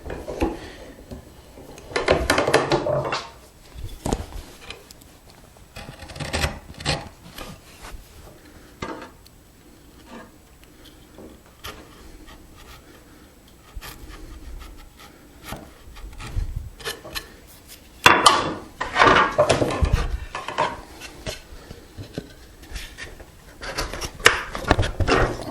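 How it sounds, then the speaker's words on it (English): A chisel pares thin shavings of wood from a tenon haunch in hand-tool joinery, giving intermittent scraping and rasping strokes in short bursts separated by quiet pauses, close and without talk. "Looks like we need just a hair off this haunch. I'll pair that with the chisel."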